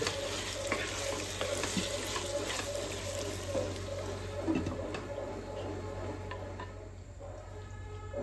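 Tomato frying with garam masala in a pan, a steady close sizzle and crackle with occasional stirring clicks over a constant low hum, no talking.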